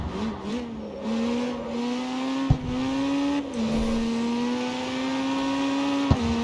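A Ford GT in the CarX Street racing game roars with a steady, high engine drone that climbs through gear changes, pitch rising and briefly dipping at each shift, loud and close throughout.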